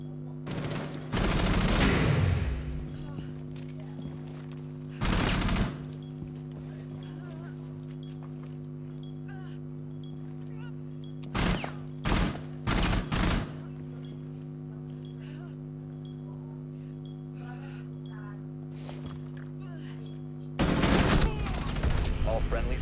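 Scattered bursts of gunfire ring out in Rainbow Six Siege, a few loud clusters of rapid shots separated by long quieter stretches over a steady humming drone.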